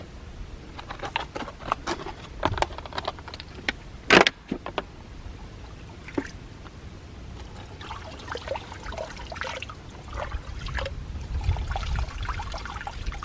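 Stream water scooped by hand on a trail hike: irregular splashes and trickles with a sharp clatter near the middle, some faint background hum, and no talking.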